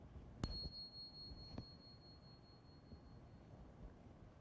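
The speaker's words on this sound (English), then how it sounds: "So I'm gonna ring a bell." A single bell struck once in a quiet room, a bright ringing tone that sustains and slowly fades over a few seconds, with faint soft handling knocks nearby.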